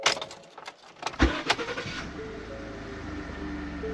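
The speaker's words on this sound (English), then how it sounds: "And the truck just fired right up." A 2015-2022 Ford F-150 pickup with a repaired PCM relay fault cranks briefly after a jingle of keys, then fires up and settles into a steady close idle.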